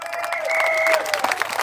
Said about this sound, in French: un tonnerre d'applaudissements pour Christine Renouf.